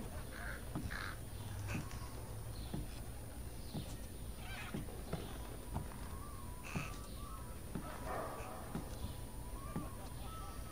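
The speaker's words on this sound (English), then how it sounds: "Can't move too fast with the birds." Birds caw repeatedly in the video game Thief, harsh crow-like calls scattered in irregular bursts over a dense ambient game soundscape with steady background hum.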